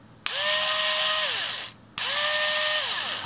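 A Makita 6723DW cordless screwdriver runs in two close, loud bursts of high motor whine, each winding up quickly, holding steady and then dropping off with a short pause between them.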